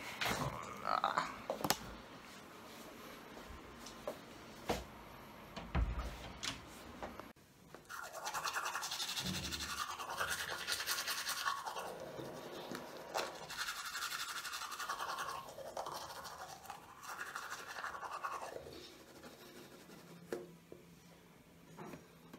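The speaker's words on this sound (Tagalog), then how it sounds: "Ngayon, magtutubrush naman ako." Teeth being brushed with a toothbrush, the bristles making rhythmic scrubbing strokes in repeated bursts close to the microphone, with some clatter and handling noise at the start and no talk over the brushing.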